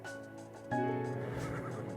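Horse neighing in the video game ARK: a single loud, close whinny that bursts in partway through and rings out over a low background hum, with no talk.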